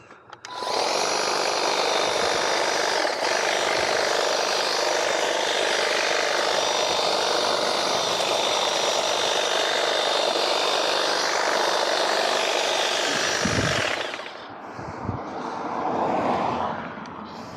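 A Toro 60V MAX Flex-Force cordless trimmer whines loudly and continuously while cutting back a bush outdoors, then winds down near the end with brief rustling after.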